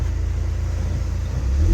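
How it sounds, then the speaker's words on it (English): Pontiac Solstice GXP with the turbocharged LNF four-cylinder idles with a deep, steady rumble up close, then starts to rise as the throttle opens near the end. "Let's give it a few revs."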